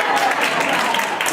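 Dense applause from a crowd at a senior showcase, steady and fairly loud throughout the short burst, with no clear gaps.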